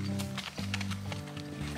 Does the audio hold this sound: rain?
no